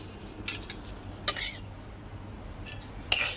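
Crisp fried potatoes tipped into a dish, giving a few short bursts of light clinking and scraping, close and fairly quiet, with brief pauses between pours and no talking.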